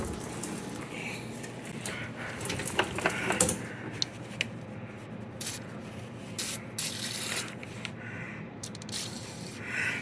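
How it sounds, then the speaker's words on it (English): Penetrating oil is sprayed from a can onto the window and track of a 1984 Toyota Tercel 4WD wagon in a garage, in several short hissing bursts between quieter rubbing and handling noises. "we're going to go ahead and spray this down a little bit"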